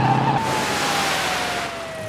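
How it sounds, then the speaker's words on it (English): Car skidding while drifting in a pond, a loud sustained tire squeal with a long gliding tone that slowly falls in pitch over a constant rushing roar. "He is drifting in the pond."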